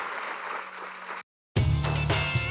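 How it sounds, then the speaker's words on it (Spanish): A church congregation applauds after a sermon, a steady wash of clapping that cuts off abruptly, then a burst of loud music follows. "Damos un aplauso a nuestro Rey, a nuestro Señor"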